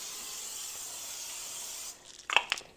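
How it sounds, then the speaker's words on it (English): Cooking spray hisses onto a pan in a steady, close burst for almost two seconds, then stops, followed by a few short clicks and taps. "Always spray your pan."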